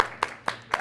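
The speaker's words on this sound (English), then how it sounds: "Can I get a round of applause for Jamie?" A few separate hand claps ring out at a town hall event as a donor is thanked, three sharp strikes spaced evenly apart, fairly close and thin rather than a full crowd ovation.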